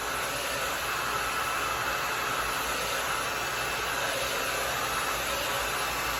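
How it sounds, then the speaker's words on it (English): A Dyson hair dryer blows steadily and close, a continuous broadband airy whoosh with a faint high whine, unchanging throughout with no talking. "But this Dyson dryer dries so friggin' fast."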